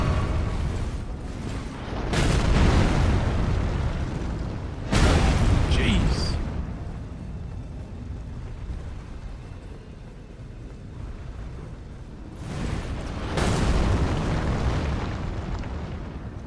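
A shot strikes a stone pillar in Elden Ring during the Godrick the Grafted boss fight, with several heavy booming impacts and bursts spaced across the stretch over a rumbling game backdrop.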